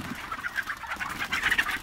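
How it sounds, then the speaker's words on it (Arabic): A flock of roughly 200 chickens on a farm, heard as repeated soft clucks and calls close by, overlapping in an uneven, busy rhythm. "تقريبا هذيل حول 200 دجاجة"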